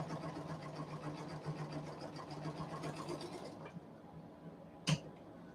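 Sewing machine quilting a diamond pattern, a fast steady mechanical whir of stitching that stops near the end, followed by a short sharp click, with no talking.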